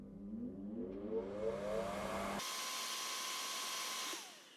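A fan switched on for an anomaly-detection test spins up with a rising whine, then holds a steady, fairly loud whoosh with a thin constant tone for about two seconds before cutting off.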